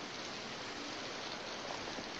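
Steady rain falls in a dense, even hiss of drops on surfaces, continuous and moderately close with no voices.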